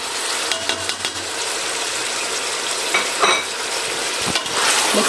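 Meat for palak gosht sizzles loudly in a pan as it is stirred, a dense continuous hiss with a few scraping strokes, close and without talking.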